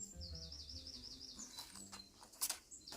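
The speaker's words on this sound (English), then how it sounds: "Little Miss Scary gave Alina a cuckoo clock, a lovely looking clock, until it struck the hour." A cuckoo clock in an animated Mr Men and Little Miss story strikes the hour with a quick run of repeated high, chirping cuckoo calls over soft background music, fading into scattered rustles.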